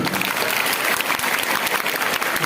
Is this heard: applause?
yes